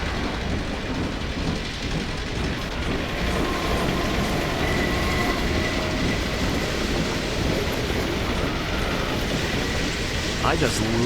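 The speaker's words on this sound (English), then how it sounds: "There goes another train, probably full of prisoners." A train rolls past in the video game Half-Life 2, a dense, continuous rumble and clatter of rail cars that stays loud and close throughout, with a faint metallic squeal near the end.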